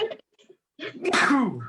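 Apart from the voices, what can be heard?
sneeze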